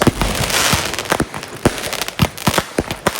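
Firework cakes set off outdoors on the Fourth of July, firing a rapid, irregular string of sharp cracks and pops over a steady crackling hiss, loud and close throughout.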